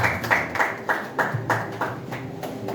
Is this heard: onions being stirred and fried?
no